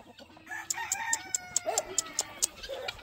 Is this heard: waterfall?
no